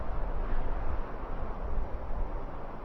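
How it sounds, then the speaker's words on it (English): An unused ambient wind sound effect from the game Big Rigs: Over the Road Racing plays as a continuous low, rumbling rush with gentle swells, alone and unbroken. "There is a wind sound effect,"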